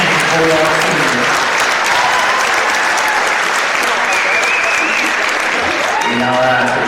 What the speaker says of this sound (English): One more round of applause for these 2 outstanding Bulldog seniors.